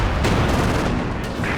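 Katyusha rocket artillery fires in the Company of Heroes 2 battle, a loud, dense barrage of booming launches and blasts rolling on without pause.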